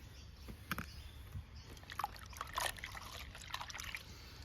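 Warm water being poured for washing an air filter, a soft continuous trickle and splash with a few brighter sloshes, fairly faint and close, no talking.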